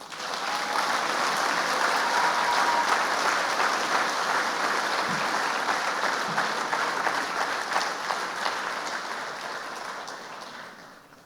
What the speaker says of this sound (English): I urge you, please, to again fulsomely applaud their contribution.